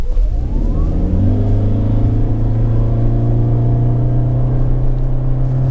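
A 2024 Toyota Corolla Cross Hybrid accelerates hard through a 0-100 run, its engine note climbing steadily in pitch under a continuous road rumble, close and alone.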